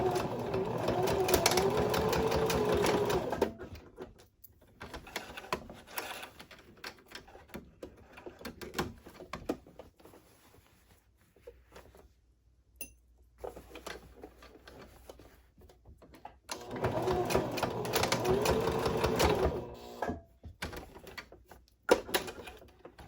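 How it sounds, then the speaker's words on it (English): Sewing machine stitching down the centers of a boho tote bag: two loud bursts of rapid, even needle chatter at start and end, separated by quieter handling noises and rustling of fabric. "And now we're going to do the same exact stitching in the centers of these."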